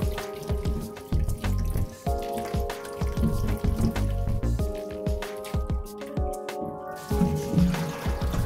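Finely shredded cabbage being rinsed under running water in a sink, with steady splashing and clattering close by for several seconds and no talking.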